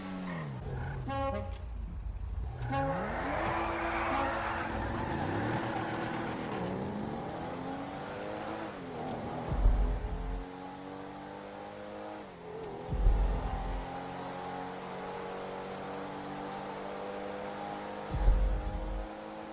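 A V8 truck and a sports car drag racing in the game GTA V: steady engine drone with rising and falling revs, gear-shift thumps recurring every few seconds, no talk.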